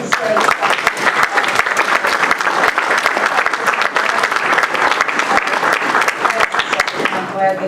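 An audience breaks into steady, lively applause for Kevin's parents, many hands clapping close by for several seconds, with a voice briefly audible near the end.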